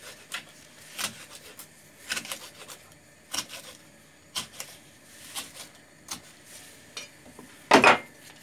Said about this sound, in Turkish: Biberlerimizi doğradık.